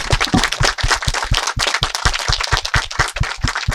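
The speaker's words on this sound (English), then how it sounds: "join me in a round of applause for Marija and Slow." Audience applause with rhythmic clapping at the close of a film screening Q&A with the director, loud, dense and sustained throughout.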